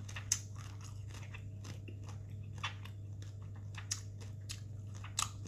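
Crunchy food is eaten near a microphone, giving a handful of sharp, spaced crunches over a steady low electrical hum, quiet and with no talking.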